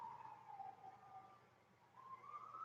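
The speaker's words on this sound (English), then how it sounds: "I'm hearing sirens, but they're definitely law enforcement, not fire, and not an ambulance, but they're close by." Police sirens wail faintly in the distance, a rising and falling tone that fades out and then returns, with no other sounds nearby.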